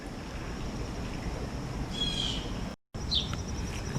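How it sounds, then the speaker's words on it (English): Faint early-morning birdsong, a few chirps and short calls over steady outdoor background noise, with a brief dropout near the end. "Early in the morning like this, you hear the birds singing."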